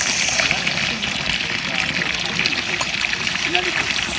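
Water is poured into bamboo tubes for chicken biryani at an outdoor village cooking site, a continuous trickling splash under steady background noise and voices.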